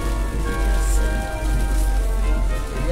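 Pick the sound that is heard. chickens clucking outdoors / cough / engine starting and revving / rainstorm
rainstorm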